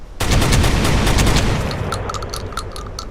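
An XM26 shotgun fires fully automatic in the video game Rainbow Six Vegas, producing a loud, dense burst of booming blasts that runs for about two seconds before fading into scattered echoing reports and clinks, with no talking.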